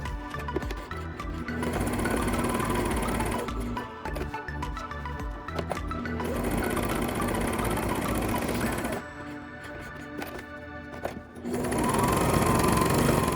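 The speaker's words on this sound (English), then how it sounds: "You're gonna come over here and sew this, this, and this." Sewing machine stitching a fabric face mask, its fast steady whir running in three long spells with short pauses between them, close and clear with faint background noise.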